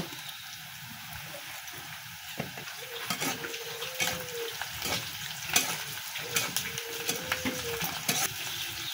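Chopped onions and chilies fry in a pan with a soft steady sizzle while a spoon stirs and scrapes, giving intermittent clicks and scraping sweeps, fairly quiet and close.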